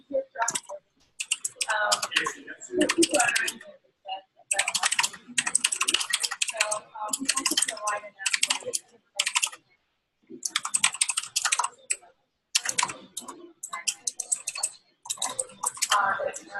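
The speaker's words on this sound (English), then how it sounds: "begin typing out a message to the nurse" Bursts of rapid keyboard typing, close and crisp, broken by short pauses between runs of keystrokes.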